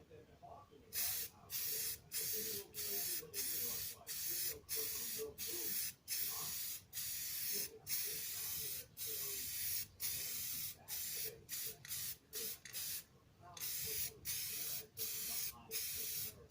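A spray can of satin finish hisses in quick, regular bursts, with short gaps between each pass. The sound is close and steady, and brief speech is heard faintly underneath.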